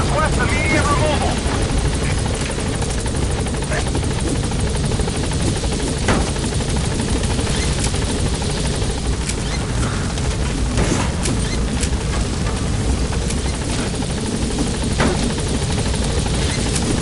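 Helicopter hovering and trying to land in the Metal Gear Solid video game, a loud continuous rotor roar throughout with faint background chatter.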